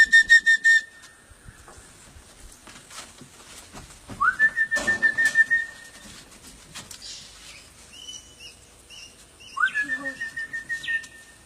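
A person whistles to call parrots outdoors in three loud, close bursts of rapid, trilling whistles, each a fast series of repeated notes, separated by quieter pauses with faint background rustling.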